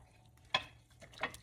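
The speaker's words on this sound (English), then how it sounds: "And again, just stirring." A spoon stirs a bean and sausage soup with celery, green peppers and Cajun seasoning in a slow cooker, making two soft, brief scraping swishes that stand alone with no talk.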